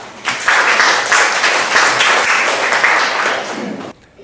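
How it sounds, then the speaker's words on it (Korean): An audience at a startup demo day in a coworking space welcomes a presenter with applause. Dense clapping swells quickly, holds steady for several seconds, then stops abruptly. "박현중 대표님을 큰 박수로 맞이해 주시기 바랍니다."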